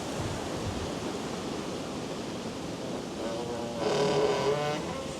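A big tree branch rubbing against a wooden platform as the wind picks up gives one short, strained creak late on, rising above a constant rush of wind noise.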